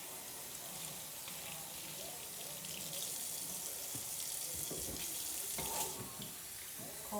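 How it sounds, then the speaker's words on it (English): Cold water runs steadily from a kitchen tap while dishes are rinsed, a close, continuous hiss and splash with small shifts in the flow and no talking. "Cold water rinse."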